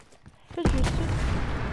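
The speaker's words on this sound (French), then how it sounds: "Je subis toujours des tirs nourris" Gunfire erupts abruptly after a quiet start, then keeps up as a dense, loud barrage of heavy shooting in a Call of Duty: Black Ops Cold War campaign battle.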